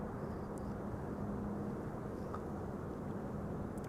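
A LOT Embraer 170 airliner arriving at Amsterdam Schiphol on a frosty day, a steady distant jet roar with a faint low hum, no talking.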